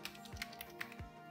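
Keys tapped on a computer keyboard, a handful of quick, light clicks spread unevenly over a brief moment, close and fairly quiet with no talking.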